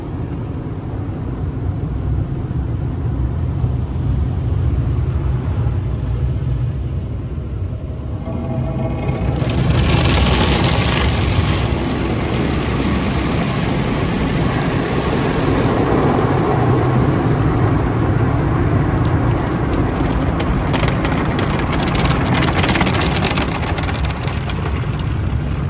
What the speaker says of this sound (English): Here's a little bit of the car wash just in case you guys want to see it.